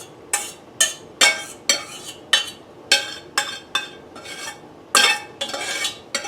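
Sauteed onions, celery and garlic cooked in a whole stick of butter get scraped from a pan into a dish, a series of sharp utensil scrapes and clinks in an irregular rhythm, close and fairly loud.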